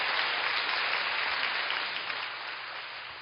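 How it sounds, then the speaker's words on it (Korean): Dense, sustained applause from a church congregation fills the space evenly, holding steady before easing slightly toward the end. "제가 박수를 안 치게 하려고 이 말로 했더니 또 박수가 또 나오네요"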